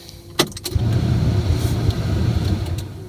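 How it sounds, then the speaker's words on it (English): A sharp click and rattle as a road train truck's ignition switches on, then a low engine-like hum starts and holds steady, close by. "When you turn your ignition on"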